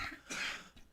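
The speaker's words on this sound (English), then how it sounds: "I'm a host with a little bit of a cough today" One man gives a short cough, close and quiet, two quick rough bursts in under a second with no talking.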